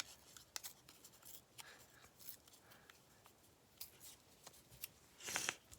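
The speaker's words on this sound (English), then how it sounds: "Let me just tear it a little bit." Paper torn slowly by hand in short, dry ripping bursts, quiet and close, with small rustles between and a louder final tear.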